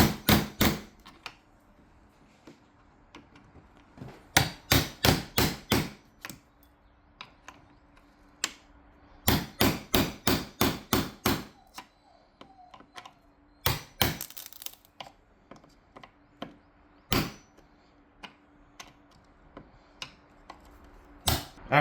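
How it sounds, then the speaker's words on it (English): Sharp, close taps strike in quick bursts with pauses between them, like a mallet driving a chisel into wood. "we're going to go ahead and take our chisel and get it out of there"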